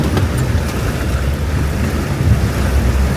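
An off-road vehicle pushes through deep water well over its rock rails and side steps, giving a loud, steady rush of churning water and engine noise with no pauses, close to the microphone.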